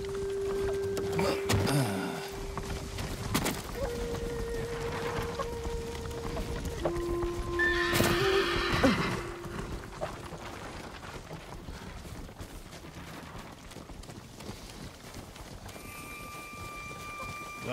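Horses whinny several times while hooves clip-clop at a trot in the video game Ghost of Tsushima, with tonal game sound effects layered in; the hoofbeats fade toward the end.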